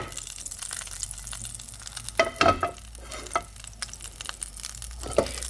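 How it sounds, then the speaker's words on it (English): Butter sizzles softly in a non-stick frying pan, with a few sharp scrapes and clicks of a spatula. "You can see my butter is starting to sizzle there"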